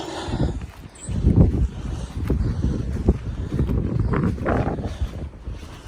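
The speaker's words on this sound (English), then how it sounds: "now the wind's going to pick up" Outdoor wind gusts buffet the microphone in a continuous low, rumbling roar that swells and eases over several seconds, with no voices.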